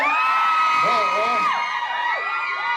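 A crowd at a live concert stage event in Buriram, Thailand, screams and cheers loudly for the performers, with high-pitched shrieks rising and falling continuously throughout.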